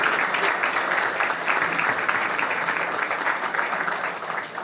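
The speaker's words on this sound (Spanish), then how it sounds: "Yo le daría un aplauso a todos estos estudiantes." An auditorium audience applauds a group of students studying beekeeping, with dense, steady clapping that fills the room and continues throughout, fading slightly at the end.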